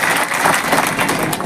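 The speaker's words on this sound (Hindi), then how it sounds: "एक बार अपने लिए जोरदार ताली बजाइए आप लोग" Crowd applause at a political rally, a brief burst of many hands clapping at steady loudness, dense and close, with a faint murmur of voices.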